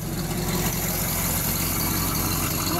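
A small block Chevy V8 with an exhaust leak runs steadily at idle, a continuous close engine drone with raspy ticking texture and no talk.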